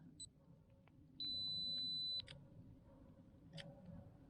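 An outdoor camera's two-second self-timer, set up facing a boulder in a glen, gives a few short high beeps and then a steady tone lasting about a second, ending in a brief click, over a quiet background.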